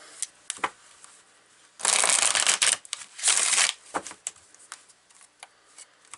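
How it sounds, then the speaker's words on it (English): Tarot cards are riffled and shuffled in two dense bursts of roughly a second each, set between lighter card taps and handling noises, close and fairly soft. "Let's pull a few cards."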